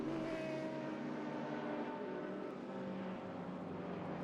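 A steady engine drone from race cars at Bathurst with a Porsche in the ADAC Masters field. The sound is a continuous, moderately loud hum of engines that holds evenly throughout.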